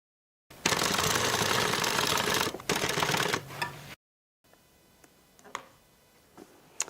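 A sewing machine back-stitches a band onto a clutch being turned into an evening bag. It runs loudly and steadily for about three seconds with a brief stutter, then stops, leaving only a few faint clicks.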